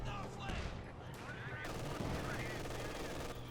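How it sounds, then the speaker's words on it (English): A machine gun in Company of Heroes 2 fires in rapid bursts amid game battle noise, with other gunfire and explosions layered underneath at a moderate level. "MG opening fire, trying to push back the AT gun"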